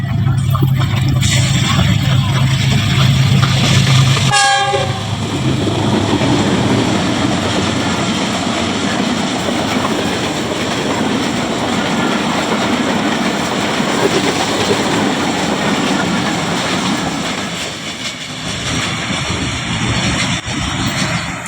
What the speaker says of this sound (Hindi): 102 डाउन सुबक रफ्तार रेल कार GU20 4566 के साथ थ्रू पास कर रही है गुजरांवाला छावनी रेलवे स्टेशन को